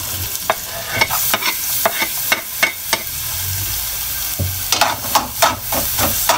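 Garlic fries in a pan for squid adobo, a soft sizzle under repeated sharp scrapes and clicks of a utensil stirring, coming in bursts with brief pauses between them.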